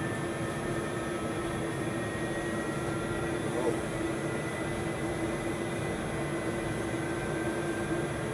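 Steady jet-engine roar in a Boeing 737-800 flight simulator at takeoff thrust, a constant broadband rush with a faint high whine, unchanging throughout, with people talking quietly underneath.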